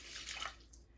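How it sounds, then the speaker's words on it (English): Warm filtered water is poured onto sourdough starter for an einkorn focaccia dough, a brief close splashing rush that fades within a second, alone without talk. "for 60 grams of starter, I'm gonna add 260 grams of water"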